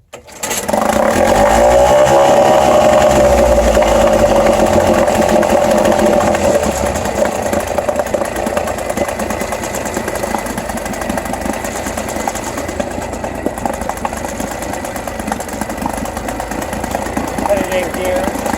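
A vintage Chrysler 4 horsepower outboard motor runs loud and close on a first start, settling into a steady buzzing drone after a sharp start-up surge, continuous for the whole stretch.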